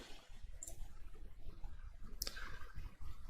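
Two crisp computer mouse clicks, one early and one later, stand out sharply over a quiet room background.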